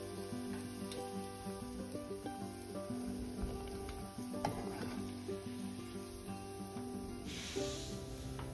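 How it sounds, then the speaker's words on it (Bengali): Shami kebab patties fry in oil until golden brown, giving a steady close sizzle and hiss with faint spattering throughout and no voices. "এটাকে আমরা গোল্ডেন ব্রাউন করে ভেজে নিব তেলে"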